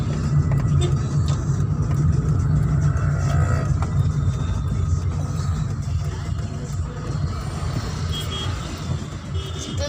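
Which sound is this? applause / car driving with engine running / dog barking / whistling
car driving with engine running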